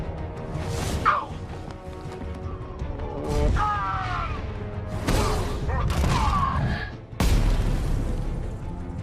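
A grenade explodes during a Batman: Arkham Knight game fight, with several sharp, loud blasts and crashes over a rumbling backdrop, and game voices talking between them.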